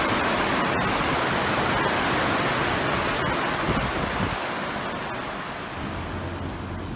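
Heavy rain pours down outside a greenhouse as a dense, steady, loud roar of broadband hiss that stays constant throughout, with a few faint knocks within it.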